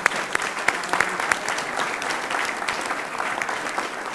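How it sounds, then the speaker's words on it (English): A hall audience applauds after a concert of young performers, with dense steady clapping that holds evenly throughout and has a few sharper individual claps near the front. "I would like to applaud"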